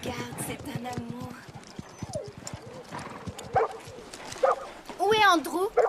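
A dog barks and yips several times amid people talking, with hoof-like clopping in the background.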